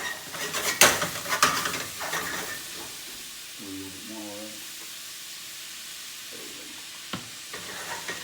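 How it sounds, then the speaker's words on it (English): Onions dropped into a hot pan for a New York hot dog red onion sauce, giving a steady frying sizzle with a stir and pan clatter early on, while a person talks briefly at the start. "And we're gonna throw our onions in there."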